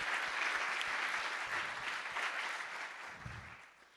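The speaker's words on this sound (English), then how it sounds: "Karen Pence is here, by the way, if you want to give her a round of applause" An audience at a policy conference applauds for Karen Pence, sustained clapping from a crowd that fades toward the end.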